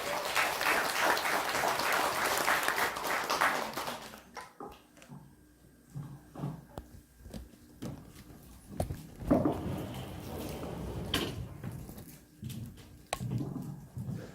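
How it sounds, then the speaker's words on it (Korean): Applause from a lecture audience welcoming a speaker to a talk on family relations, a dense clapping wash for the first four seconds that cuts off, followed by faint scattered sounds and a voice speaking. "뜨거운 박수 부탁드립니다."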